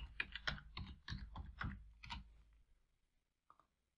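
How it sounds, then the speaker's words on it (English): Keys on a computer keyboard tapped while entering a name into a spreadsheet cell, a quick run of close, crisp keystrokes for about two and a half seconds, then quiet and a single last click. "in cell I8, I'll type Carolyn"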